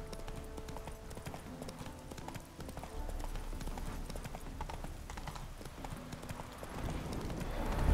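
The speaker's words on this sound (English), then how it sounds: "Roach doesn't like ghosts." Roach, Geralt's horse in The Witcher 3, trotting with steady clip-clop hoofbeats and a possible neigh, with game music and ambience underneath and no talk.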